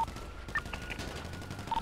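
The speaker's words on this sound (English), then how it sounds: "Cops are shooting." Police gunfire in the video game GTA V during a bank heist shootout: scattered, fairly faint shots crackling over a busy background, with no voices clearly heard.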